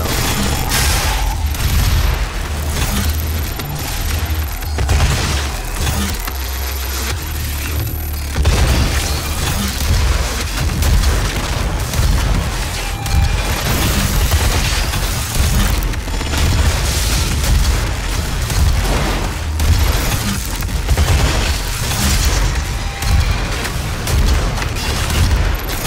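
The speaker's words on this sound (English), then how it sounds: "I'll just rocket launch it now." Rocket launcher blasts in a video game against a spider boss, a long run of loud booming explosions and crackling bursts close by, repeating heavily throughout with dense rumbling in between and no speech.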